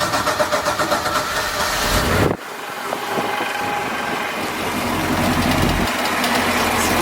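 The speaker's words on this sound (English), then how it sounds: "we're going to start with the starboard motor." The starboard engine of a 2007 Four Winns 318 Vista boat cranks with a rapid pulsing churn, cuts abruptly, then settles into a loud, steady running idle close by.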